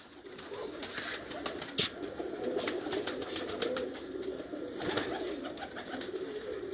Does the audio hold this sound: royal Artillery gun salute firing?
no